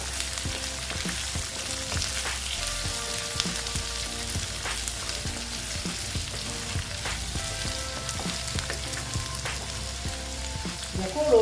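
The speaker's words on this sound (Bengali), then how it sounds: "পেঁয়াজগুলো দিয়ে দিচ্ছি দিয়ে এটা আমি ভালো মতন কষিয়ে নেবো" Onions fry for a dried-fish bharta, a dense, continuous crackling sizzle close up with faint scattered pops and an occasional stir, loud and steady throughout without talking.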